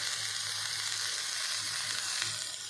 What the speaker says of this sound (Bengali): এখানে আমার পেঁপে ভাজা হয়ে গেছে।